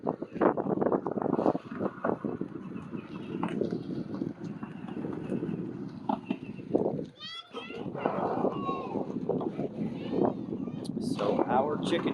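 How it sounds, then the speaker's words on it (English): Strong gusty wind on a windy day buffets an outdoor microphone with a steady roaring rumble that surges in waves, while children's voices come and go underneath. "a big gust of wind."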